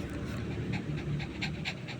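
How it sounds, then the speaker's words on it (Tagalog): A dog pants rapidly and steadily in excited rhythmic breaths, close and continuous, with soft background noise. "Hingal siya. Hingal o excited."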